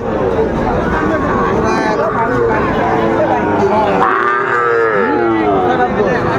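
Sahiwal bull calves and cattle at a busy Raniganj livestock market, with steady low lowing and animal noise under continuous loud bargaining voices and crowd babble.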